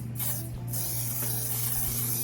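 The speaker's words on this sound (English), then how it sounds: "I'm going to also try it as a setting spray under something else" Setting spray mists from a bottle in a long, loud, continuous hiss up close, with a faint low hum beneath and no talking.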